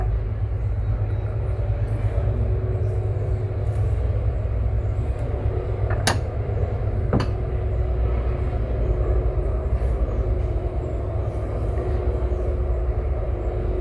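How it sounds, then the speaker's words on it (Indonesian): A train rumbles steadily nearby with a low continuous roar and a couple of sharp metallic clanks. "Kereta api."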